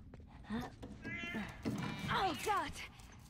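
A cat meows several times in The Last of Us: Left Behind on PS3, rising and falling cries heard up close amid game sounds.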